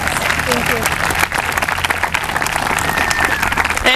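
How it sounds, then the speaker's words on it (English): An outdoor audience at a garden dedication breaks into steady applause, loud and continuous for the whole span, with voices mixed in. "Give her a round of applause, please."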